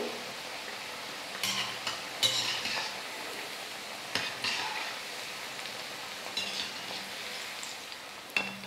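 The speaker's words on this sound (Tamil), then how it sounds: "கரண்டி வச்சு அப்பப்போ திருப்பி கொடுத்துக்கிட்டே இருந்தோம்னா எல்லா பக்கமும் நல்லா வெந்து வரும்." Pakoda fry in hot oil with a soft, steady bubbling hiss, broken by several brief ladle scrapes and clinks against the pan as the fritters are turned.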